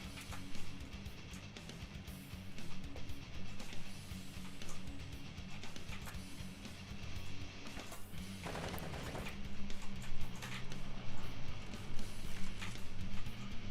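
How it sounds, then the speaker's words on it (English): Gunfire in the zombie shooter Zombie Raid: No One Survives, a dense, continuous crackle of shots layered over game noise, with a louder flurry of bursts toward the end. "I think I'm taking fire now"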